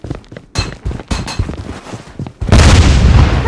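Gunfire in the video game Blood Strike: scattered sharp shots and bursts at mixed distances, ending in a loud, dense roar of sustained fire.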